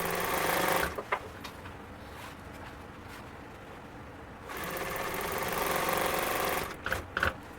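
A sewing machine stitches upholstery for a 1951 Ford truck seat in close, fast whirring bursts, running briefly, pausing for a few quiet seconds with small handling noises, then running again before stopping.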